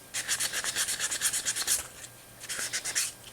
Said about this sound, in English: I'm gonna go back to sanding this thing by hand